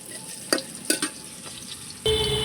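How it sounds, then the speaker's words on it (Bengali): Stuffed snacks fry in oil in a wok, a close bubbling sizzle punctuated by a few clinks of a utensil stirring, then a louder burst of sizzling near the end. "আর কড়াইয়ের মধ্যে আরও কিছু দিয়েছি, ওইগুলি ভাজা হচ্ছে।"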